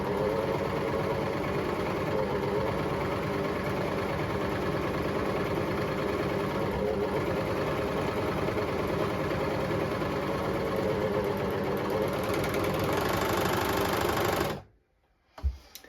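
Jaguar 489 overlocker cutting and stitching the edge of slippery dance fabric, a steady fast mechanical whir and clatter running continuously for about fourteen seconds before stopping abruptly, followed by a faint click.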